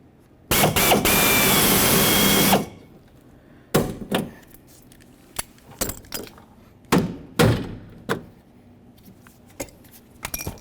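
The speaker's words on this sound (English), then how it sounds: "Now we can drill this out." Power drill boring out a door rivet on a Ford Ranger, a continuous high-pitched whir lasting about two seconds, followed by scattered close clunks and taps of tools and metal parts.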